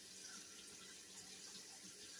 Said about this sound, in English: Get some warm water going.